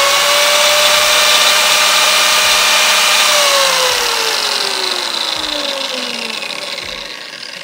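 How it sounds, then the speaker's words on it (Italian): A Triton TBJ001 biscuit joiner runs loud and steady, its motor whine winding down near the end with a falling pitch, accompanied by periodic low mechanical knocks. "oltre al rumore della fresatrice, che comunque è un rumore lieve, quello del motore, c'è questa aggiunta di un rumore meccanico"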